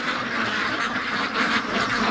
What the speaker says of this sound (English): big crew of ducks just came back from the lake